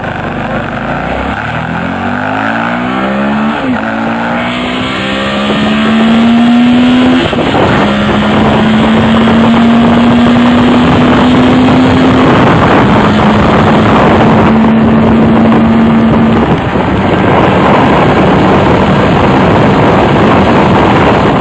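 Suzuki DL650 V-Strom motorcycle on the move, its engine note climbing and dropping through gear changes over steady, loud wind rush, with no voices.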